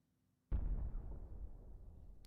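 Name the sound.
artillery battery firing in the video game Grand Tactician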